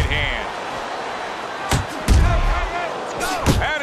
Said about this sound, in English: That is a sharp uppercut by Muhammad Ali.